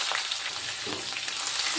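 Oil with tempering spices and curry leaves sizzles and crackles steadily in a hot pan, a continuous close frying hiss with no talking.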